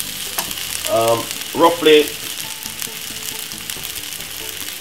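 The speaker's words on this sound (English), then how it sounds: "then add the rice. Give it a stir." Rice is stirred and fried in a hot pan, giving a continuous sizzle with scraping stir strokes, while a voice briefly speaks over it near the middle.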